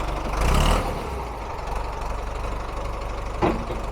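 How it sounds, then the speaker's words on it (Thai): A Ford 6610 tractor engine runs with a steady mechanical rumble close by. Its pitch swells briefly near the start, and a short sharp burst of noise comes near the end. No one speaks. "เดี๋ยวขอเร่งอีกนาทีหนึ่ง"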